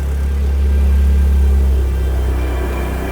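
A Vauxhall Nova VXR's engine runs steadily at idle, a close, loud low rumble that swells slightly and eases back over a few seconds, with no talking.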